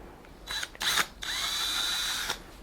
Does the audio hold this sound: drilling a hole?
yes